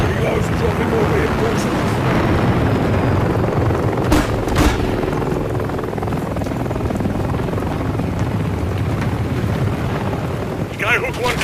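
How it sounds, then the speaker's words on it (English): Helicopters arrive in Call of Duty Modern Warfare III, their steady rotor drone rumbling loud and continuous throughout, with brief bursts of other game noise partway through and near the end. "Skyhook, 2 clicks out. Helos dropping over here."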